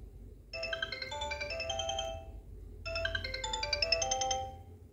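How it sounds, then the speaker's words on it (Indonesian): The bright, bouncy default ringtone of a Sony Ericsson K700i phone plays twice, each burst about two seconds long, separated by a short pause, over faint background hiss. "kita belum nostalgia nih sama ringtone bawaan dari Sony Ericsson K700i"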